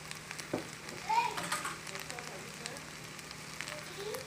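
Ladies finger sautéing in a home kitchen pan, a faint soft sizzle running beneath nearby talking, with occasional clinks of utensils.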